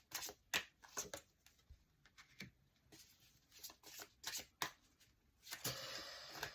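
Tarot cards shuffled by hand during a reading, a series of soft, quick riffling and flicking bursts, close and quiet, with no talk over them.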